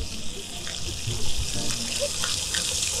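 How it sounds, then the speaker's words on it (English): A water fountain at the beach sprays steadily, a loud continuous hiss and splash like running tap water that fills the whole span, with faint background sounds under it. "You see the water fountain?"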